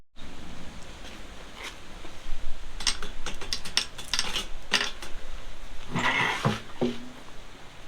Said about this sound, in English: taking a bunch of little rocks from my backyard, putting them in the tank. I'm going to shake it